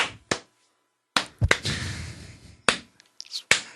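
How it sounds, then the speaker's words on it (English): A handful of sharp, close hand claps land slowly and unevenly, with quiet gaps and faint rustling between them. "slow clap for you, buddy."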